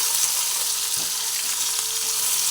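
Okra frying in an oiled pan, stirred after salt is added, makes a steady, close, bright sizzle with a faint scrape of stirring near the middle, no voices.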